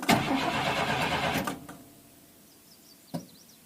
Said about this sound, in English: You can hear the fuel pump in the tank cycle on